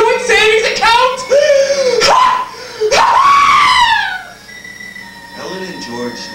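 Dramatized screaming and moaning in a radio play, a sequence of loud, rising and falling wails and cries that fade into quieter moans toward the end.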